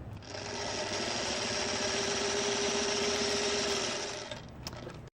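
A sewing machine stitches quilt blocks in one continuous fast run, a steady mechanical whir that starts up, holds for several seconds, then stops with a click.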